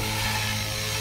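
An RC helicopter fitted with a MicroBeast flybarless unit flies close by, giving a loud, steady rotor whine and buzzing hum for a brief moment.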